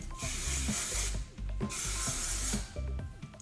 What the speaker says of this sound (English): now what I'm gonna do is spray